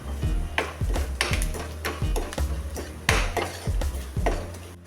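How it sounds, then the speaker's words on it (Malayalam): A spiced ground paste being stirred in a pan while cooking a Kerala yam curry, with repeated scraping and knocking of a spoon against the pan in an irregular rhythm, close and fairly loud, no talk. "1 മിനിറ്റ് നേരം ഇതൊന്ന് ഇളക്കി കൊടുക്കണം."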